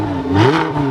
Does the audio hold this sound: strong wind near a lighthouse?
no